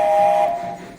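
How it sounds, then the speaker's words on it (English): Steam locomotive whistle in the Transport Tycoon video game, a single loud, clear tone that holds briefly and then cuts off, leaving a fading hiss. "we've got another lever that goes to the sides, and we've got our whistle"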